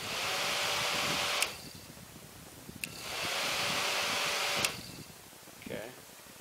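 A school bus fan motor spins up to a fast, high whir, then shuts off and winds down quickly, twice in a row, with a faint click at each stop; close and moderately loud.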